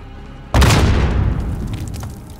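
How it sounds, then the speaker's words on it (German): A grenade blows up in Call of Duty Modern Warfare with a sudden, loud, close boom that rumbles and fades slowly over about two seconds. "Bruder, ich werf lieber eine Granate, ganz ehrlich."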